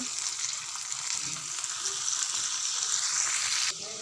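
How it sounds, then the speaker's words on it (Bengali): Spice paste fries in hot oil in a pan for peas kachori filling, giving a steady, close hiss and sizzle that holds evenly before dropping off abruptly near the end. "প্রথমে মশলাটা আমি একটু কষে নেব"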